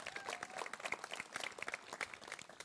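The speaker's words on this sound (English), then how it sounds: "So let's give them a round of applause." Applause for students at a county clerk's Valentine's wedding event, a faint, distant patter of scattered claps lasting a few seconds.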